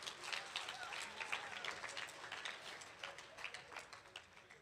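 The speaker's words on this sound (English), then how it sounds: "Can we please give them another round of applause?" Soft, scattered applause from an audience follows a boys' group performance at an Easwaramma Day celebration, the claps faint and somewhat distant, tapering slightly toward the end.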